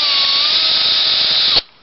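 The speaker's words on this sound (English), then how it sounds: "These are really nice sets, both the drill and the impact driver." A cordless power drill or impact driver runs at a steady high-pitched whine for about a second and a half, then cuts off abruptly, loud and close with no voices.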